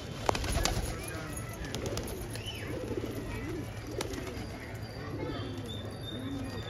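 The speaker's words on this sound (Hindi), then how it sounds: "देखिए दोस्तों ये कुछ कबूतर इनके तार पे बैठे हैं" Pigeons perched on a wire at a Rohtak loft coo in soft, repeated rolling calls over a steady outdoor hum, with murmuring voices in the background.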